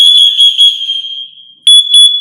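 A FireAngel Wi-Safe 2 networked fire alarm sounds in a steady high-pitched shrill tone, then breaks into short repeated loud beeps, with no talk over it.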